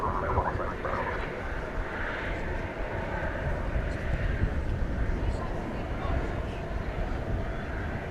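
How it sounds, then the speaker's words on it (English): An American Airlines Boeing 737-800 at DFW Airport produces a broad, continuous jet roar at a distance, with people talking over it. "Coming our way, American Flight 1104 to Boise,"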